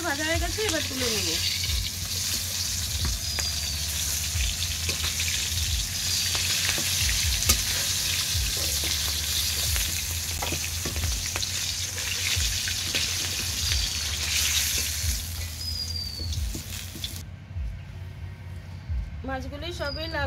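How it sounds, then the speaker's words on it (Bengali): Fish pieces frying in oil in a wok in a village kitchen, a continuous close sizzle with stirring and a brief watery tap sound near the end, while a person talks over it. "মাছগুলি সবই লাল করে ভেজে নিয়েছি,"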